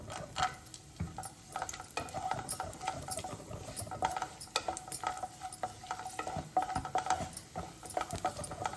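Raisins fried in a pan for aval laddu, a flattened-rice sweet: a soft, steady crackling sizzle broken by frequent light stirring scrapes, fairly quiet and close, with no voices.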